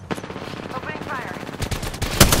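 Video game gunfire in a firefight: a rapid burst of shots rings out, followed by louder cracks near the end, under a voice speaking over the action.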